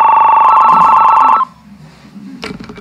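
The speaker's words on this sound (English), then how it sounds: "It's the phone." A loud telephone rings, a steady electronic trill for about a second and a half before cutting off, then a short clatter and quiet room sound.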